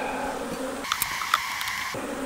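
Agitated honey bees hum in a continuous close drone during a hive inspection in western Oklahoma, briefly interrupted by a few faint clicks and taps midway.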